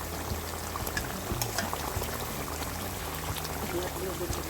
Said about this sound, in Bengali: আমি নারকেলের দুধটা পেস্ট করে নিয়েছিলাম তো সেটা দিয়ে দিচ্ছি